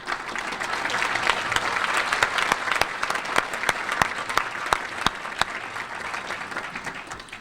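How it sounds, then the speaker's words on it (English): Attendees at a meeting applaud the staff with a sustained round of clapping, individual claps standing out sharply over the crowd's steady patter. "Let's give them a round of applause."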